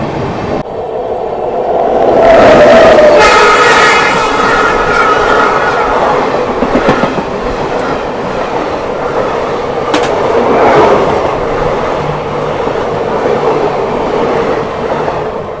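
12776 Lingampalli–Kakinada Town Cocanada SF Express train rolling along the track, a loud, sustained rumble of wagons and wheels that swells early, then holds steady with rattling clatter throughout.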